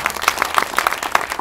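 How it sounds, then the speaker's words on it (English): Graduation audience applause, a brief burst of distinct, fairly close claps in an irregular patter, loud and short. "So give yourselves a round of applause."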